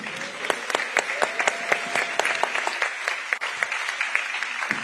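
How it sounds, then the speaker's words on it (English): Audience applause fills a summit hall, a dense steady patter of many hands clapping close and loud with sharp individual claps standing out, continuing throughout without speech. "help me to give the warmest applause so that it feels like there's a million people"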